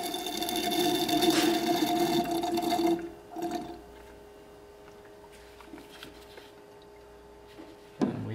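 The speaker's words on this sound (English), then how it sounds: "I've got this little pump here, suction pump. Get that in there and start to drain it out." A small hand suction pump drains brake fluid from the reservoir of a Land Rover Discovery 2, giving a steady liquid gurgle and slurp for about three seconds, then a brief burst before near quiet with a faint click at the end.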